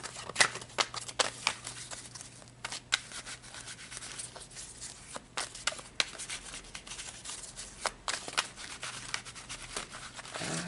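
Tarot cards are shuffled rapidly and continuously up close, a crisp riffling and rustling with sharp flicks.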